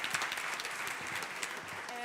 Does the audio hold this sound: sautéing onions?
no